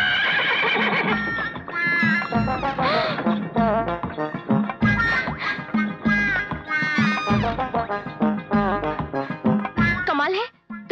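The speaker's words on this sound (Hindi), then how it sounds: "तुमने सीटी बजाई और घोड़ा उल्टे पांव आ गया।" Horse neighing with clip-clopping hooves in a Hindi film scene, heard beneath a dense, continuous layer of music and voices, with a falling whinny-like cry near the end.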